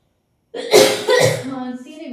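A sudden, harsh cough bursts out close by in two quick heaves, trailing off into a low voiced breath.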